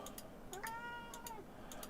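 A house cat meows insistently indoors, demanding food, with two clear, drawn-out meows close by and no talking over them.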